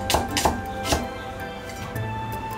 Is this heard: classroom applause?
no